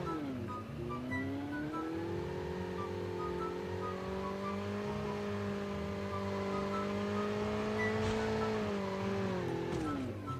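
Car engine in Call of Duty, a steady droning motor holding a fairly even pitch, briefly rising at the start and dipping at the end, continuous and moderately close.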